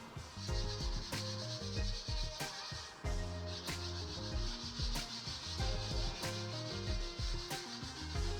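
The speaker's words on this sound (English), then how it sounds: "started sanding everything that I filled" Filled holes, scratches and dents are sanded during a budget bathroom makeover, producing close, repetitive scratchy strokes in a steady back-and-forth rhythm with brief pauses between passes.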